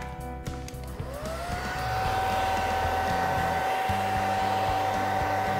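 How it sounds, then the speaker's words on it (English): A hair blow dryer set on low runs steadily while zombie makeup is being applied, a close, continuous whir that steadies after a rising start, with faint thumps and handling noise early on. "I will get the hair blow dryer, which we're basically going to set on low."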